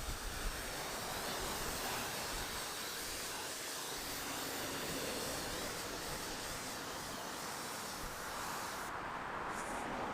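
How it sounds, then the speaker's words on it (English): Strong wind roars and buffets continuously for the whole stretch, a broad rushing hiss with no talking. "It is super windy."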